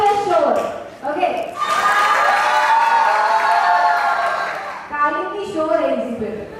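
A company foundation-day crowd at an awards ceremony and theme-song launch cheers and shouts loudly in a sustained roar, with voices rising over it at the start and end.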